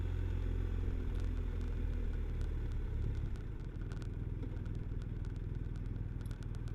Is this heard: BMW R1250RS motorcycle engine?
yes